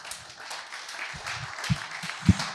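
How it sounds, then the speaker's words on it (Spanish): Audience applause at a book presentation, a dense, moderately loud patter of many clapping hands heard from the room, with a few heavier thuds standing out near the end. "así que otro aplauso para Tatiana"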